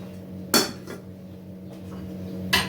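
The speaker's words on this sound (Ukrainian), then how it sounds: "накриваю каструльку" Two sharp metallic clanks about two seconds apart as a lid is set onto a saucepan, over a steady low hum.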